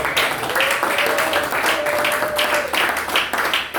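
A church congregation applauds and cheers the Lord during a French-language worship service, sustained dense clapping with a few voices rising over it, steady and fairly close throughout.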